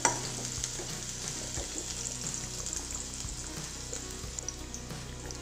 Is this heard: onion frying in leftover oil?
yes